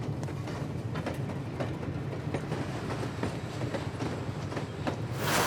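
A train rolls steadily along rails with a continuous rumble and repeated clickety-clack of wheels over joints, close and sustained throughout.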